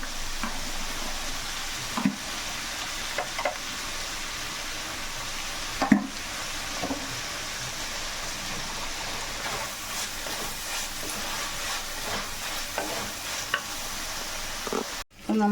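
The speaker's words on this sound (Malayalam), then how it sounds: "ഇറച്ചി ഞാൻ ഉപ്പും മഞ്ഞളും ഇട്ട് വേവിച്ച് വെച്ചിരിക്കുന്നതാണ്" Meat that was boiled with salt and turmeric sautés in a pan, a steady close sizzle broken by occasional scrapes and knocks of a stirring spoon, with no talk over it.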